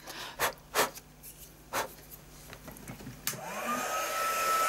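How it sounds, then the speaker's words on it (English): Heat tool for embossing powder, used while making a stamped card, switches on after a few soft taps and bumps, then blows a steady, loud, close whoosh of hot air with a rising whine. "I'm going to heat up my heat tools"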